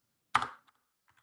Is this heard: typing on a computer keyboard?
yes